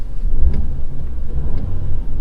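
An Audi A5 Sportback quattro engine idles quietly in its quiet sound mode, a soft low rumble with slight swells and no other sounds.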